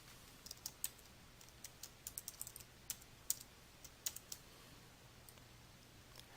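Typing on a computer keyboard while filling in a form response: quiet, close, irregular bursts of crisp key clicks over a faint hum, no voices.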